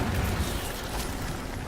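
Incendio fire spell cast in a Harry Potter video game, a short roaring burst of flame with a rumbling, explosive rush that stays loud and dense throughout.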